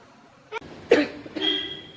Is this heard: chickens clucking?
no